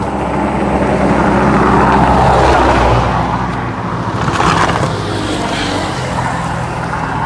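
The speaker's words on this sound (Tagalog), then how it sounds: "May bilis na mga sasakyan dito. Bypass kasi." Fast cars passing on a bypass road: one vehicle swells in and roars past loudly, followed by a second quicker whoosh, with steady traffic rumble underneath.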